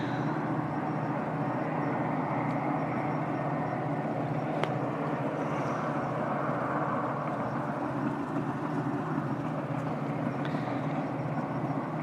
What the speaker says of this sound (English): and I hear a train coming.